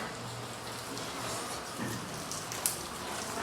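Rain falls steadily with a soft, even hiss throughout, outdoors during a storm, with a single faint sharp tap partway through.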